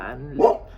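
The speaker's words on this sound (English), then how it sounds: "Sorry about the dogs." Dogs barking indoors, a single short yelping bark rising near the end of a moment of speech, fairly close and clear.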